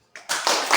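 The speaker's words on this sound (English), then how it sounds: "Now, giving applause to them." A classroom audience gives a short burst of applause after a group presentation, a few quick claps starting abruptly and close.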